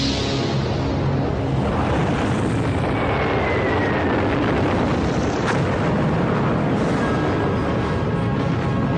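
An impact explosion on an ice sheet, a dense sustained roaring rumble that fills the clip at steady loudness without pause.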